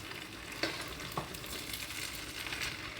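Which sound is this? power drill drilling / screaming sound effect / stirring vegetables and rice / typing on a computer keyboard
stirring vegetables and rice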